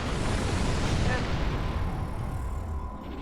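Starship weapons firing in the Star Trek Online video game, a dense, roaring barrage of blasts and booms that stays loud throughout before easing slightly at the end.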